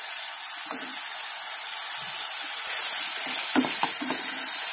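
Prawn, potato and cabbage curry frying in a pan gives a steady close sizzle and hiss, with a few soft stirring knocks partway through.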